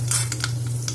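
Mustard seeds hitting hot cooking oil in a pan give off a brief burst of close, crackling sizzle with sharp pops over a low hum, and no voices.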